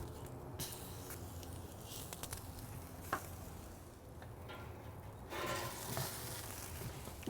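A flipped stuffed cheeseburger patty, a Juicy Lucy, sizzles steadily on a Pit Barrel Cooker, a faint crackling hiss with a few small pops and a brief louder burst partway through.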